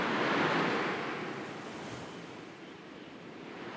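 Sea waves wash onto the shore in a steady, soft roar, swelling gently then easing back, with light wind noise and no voices.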